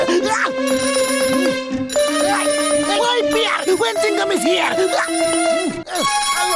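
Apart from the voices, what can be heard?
telephones ringing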